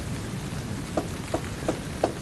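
Rain driven by gale-force winds, a steady dense hiss with a few brief louder gusts or spatters standing out, no voices.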